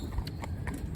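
A 16-year-old horse walks along, its hooves clip-clopping in a clear, even rhythm close by, several distinct strikes over a low background rumble.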